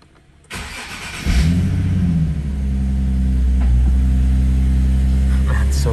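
A Nissan 370Z Nismo with an aftermarket exhaust cranks and fires up on a cold start, then settles into a loud, deep, steady idle rumble close by.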